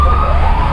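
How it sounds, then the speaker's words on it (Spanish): An ambulance siren wails steadily at close range, a continuous high tone holding loud throughout with no talk over it. "La ambulancia, que no falte."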